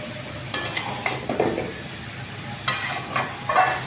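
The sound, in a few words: stirring chalta pickle spice mixture in a pan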